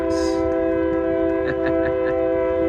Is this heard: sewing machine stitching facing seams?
no